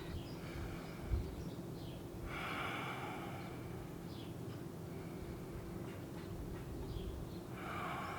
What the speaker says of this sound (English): Let's see if we can take 3 big breaths.